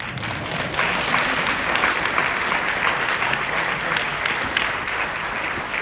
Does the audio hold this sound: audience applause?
yes